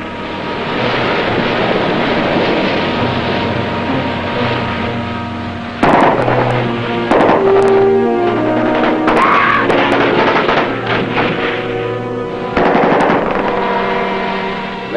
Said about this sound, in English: That's pretty heavy fire from shore.